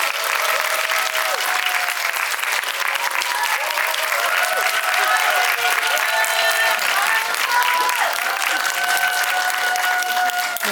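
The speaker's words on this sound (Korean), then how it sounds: "잘생겼다는 환호가 나오고 있는데" Audience applause and cheering at a Korean film screening Q&A for the movie Open the Door, sustained dense clapping from a large crowd with scattered shouts, steady and loud throughout.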